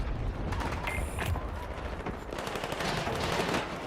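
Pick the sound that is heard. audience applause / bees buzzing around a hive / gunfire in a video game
gunfire in a video game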